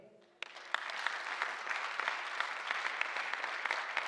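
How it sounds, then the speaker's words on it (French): An audience at a formal gathering bursts into applause after a sudden start, then sustains dense, even clapping with scattered sharper claps for about four seconds. "il y a quoi lui dire merci à travers des applaudissements"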